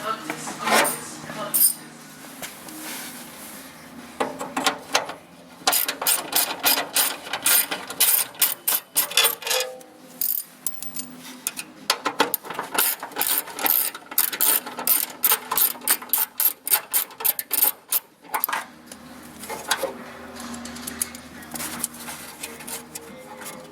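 Bursts of rapid ratchet clicking as a wrench backs off four 8mm retaining nuts on a Z car during an HID headlight conversion, close and crisp in repeated runs with short pauses between them.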